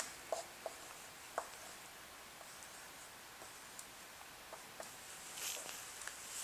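Chalk or marker strokes on a board as an equation is written, faint scattered taps and scratches at a quiet level, with a brief longer scrape near the end and no talking.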